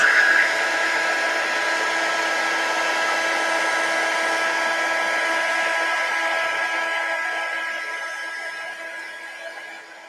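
A hair dryer blows steadily at close range to dry watercolor paint, a continuous whirring drone with a whining tone that holds and then fades slightly toward the end.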